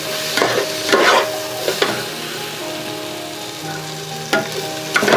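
Soaked moong dal frying with cumin in a pan for Bengali bhoger khichuri, a close continuous sizzle broken by several bursts of stirring and scraping, no talking.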